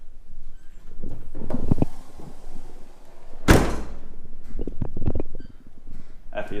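A Brass Monkey 95L dual-zone fridge door shuts with a sharp, loud thunk midway, surrounded by quieter shuffling and handling noises close by.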